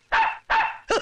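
A dog barks three times in quick succession, loud and close, each bark sharp and clipped with short gaps between, the last slightly higher and more strained.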